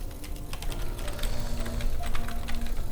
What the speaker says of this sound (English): Are you clicking away and clacking away over there?